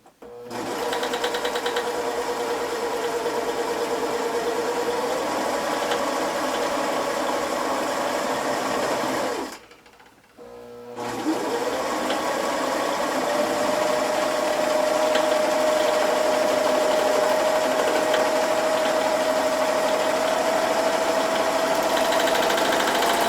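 A serger runs continuously stitching fabric for a flatlock table runner, a loud steady mechanical whir with a brief stop near the middle before resuming at a slightly higher pitch.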